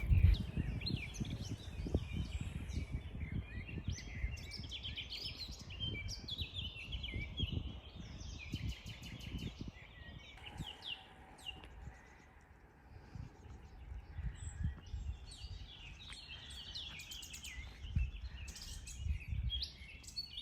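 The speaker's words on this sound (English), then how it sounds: "The birds are singing." Birds chirp and sing in the trees of Marjan Hill Park in Split, Croatia, with scattered calls heard at a moderate distance over a soft outdoor background, while footsteps crunch along a hiking trail.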